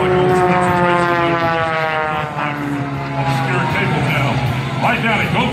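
An aerobatic propeller airplane at the Wings Over Wayne 2017 air show drones loudly as its engine accelerates, the tone climbing steadily over several seconds while an announcer talks over it.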